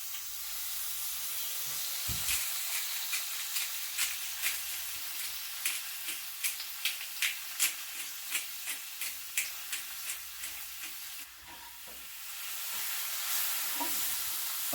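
Spinach wilting in a hot pan on residual heat after the burner is turned off, a steady close hiss and sizzle with a run of light rhythmic scraping or tossing sounds, no voices.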